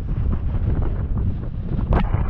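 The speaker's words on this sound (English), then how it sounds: "Pretty windy today" Strong wind gusts buffet the microphone outdoors in Utah's Grand Staircase-Escalante National Monument, a loud, low, rumbling roar that persists throughout with a sharper blast near the end.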